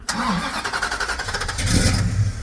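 A 1967 Plymouth Belvedere GTX engine cranks and fires up close by, catching after a short starter whir and settling into a loud, lumpy rumble that swells toward the end.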